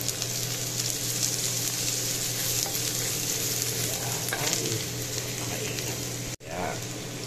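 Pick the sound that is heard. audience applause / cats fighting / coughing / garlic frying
garlic frying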